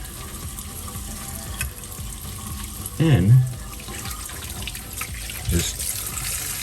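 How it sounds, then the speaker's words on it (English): Tap water runs steadily down an arm during rinsing of a fresh tattoo, a soft continuous splashing wash with a couple of brief louder gurgles, while a voice speaks briefly. "Just let the water run. Let the water run down the arm."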